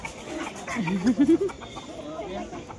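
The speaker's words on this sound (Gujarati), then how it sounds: "જો મરઘો છો" A rooster near a crowded temple gives a short run of clucks midway through, standing out over a low background murmur.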